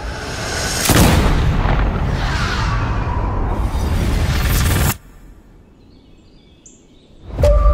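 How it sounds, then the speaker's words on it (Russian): A homemade cartridge bursts in the chamber of a gun in a film scene: a sudden loud boom, then a sustained roaring rush that cuts off abruptly into quiet, with a second sharp blast at the end. "а когда выстрелил, то патрон разлетелся прямо в патроннике."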